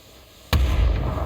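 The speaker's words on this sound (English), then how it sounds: "Get him moving with a grenade, maybe?" A single grenade explosion in a video game shooter, a sudden loud bang after a quiet moment followed by a rumbling decay, close and alone.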